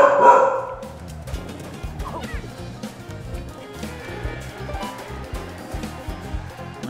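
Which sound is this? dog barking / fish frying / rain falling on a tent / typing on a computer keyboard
dog barking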